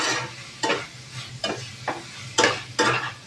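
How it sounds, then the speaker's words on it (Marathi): A spoon stirs a bell pepper and green pea vegetable dish with coriander in a pan: six or so distinct scraping strokes at an irregular pace over a low sizzle, close by; no voices. "कोथिंबीर टाकून छान हलवते भाजी"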